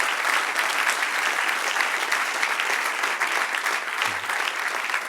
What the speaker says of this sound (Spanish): Dale fuerte el aplauso otra vez.